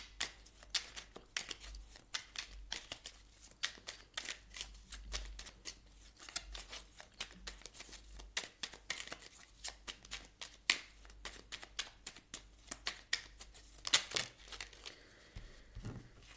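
Tarot cards are shuffled by hand close up, a steady run of soft riffling flicks and slaps that lasts the whole stretch without a break, with no one talking.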